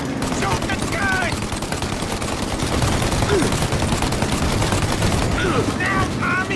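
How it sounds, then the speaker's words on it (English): Sustained gunfire in Mafia: The Definitive Edition during a car chase shootout: dense rapid machine-gun bursts running continuously and loud, with shouted dialogue and a driving score beneath. "Shoot the gun!"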